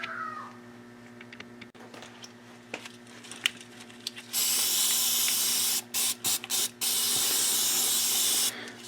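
Brake cleaner sprayed onto a Kawasaki KX 125 engine gear during a case clean, several loud hissing bursts of aerosol, one long continuous spray followed by short quick blasts, after quiet clinking of parts.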